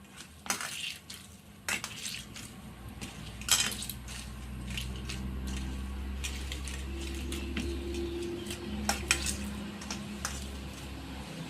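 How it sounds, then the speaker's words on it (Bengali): A spoon stirs a powdered milk mixture in a bowl, mashed so no lumps remain, for a muri lancha sweet, with scraping clinks and taps at a steady pace over a constant low background hum. "এখন একটু মাখায় নিতে হবে, গুঁড়ো দুধ তো নয়তো মিশবে না, নেব ভালো করে মাখাতে হবে, দলা যেন না থাকে।"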